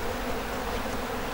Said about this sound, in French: j'ai plus du million d'abeilles